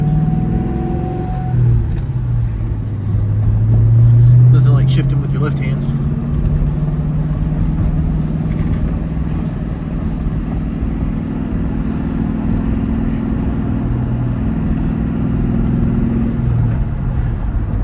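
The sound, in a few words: Ford Mustang Bullitt car engine while driving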